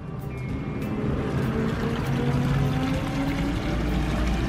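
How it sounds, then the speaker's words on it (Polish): Water pours steadily at the spring source of the Warta river in Poland's Jura region, a constant close rushing flow with no talk. "Źródła rzeki Warty."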